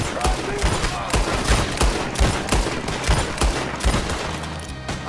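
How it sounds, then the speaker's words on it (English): Rapid gunfire from a Red Dead Redemption 2 shootout, with dense, overlapping shots cracking in irregular bursts throughout at a loud, close level, and brief shouted voices mixed in. "We're shooting them!"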